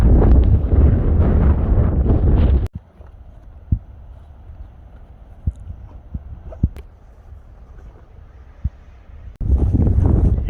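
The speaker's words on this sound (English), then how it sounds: "Yeah, wind, I know." Strong wind blowing across a hiking spot at the Grand Canyon rumbles loudly into the microphone, then drops to a quieter gusty hiss with scattered bumps before a heavy blast returns at the end.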